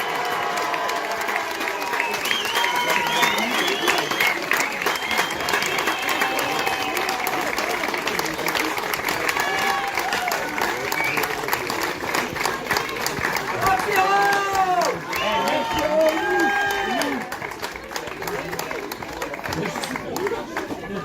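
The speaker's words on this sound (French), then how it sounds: "faites bien tonnerre d'applaudissements" Loud, sustained applause fills a youth land sailing championship trophy ceremony, a dense crowd clapping with cheers and scattered voices calling out over it, swelling midway before easing slightly.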